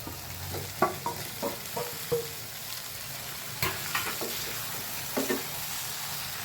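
Pointed gourd tossed into spiced oil and stirred, with a steady frying sizzle broken by a series of rhythmic scraping and clattering stirs from a spoon against the pan.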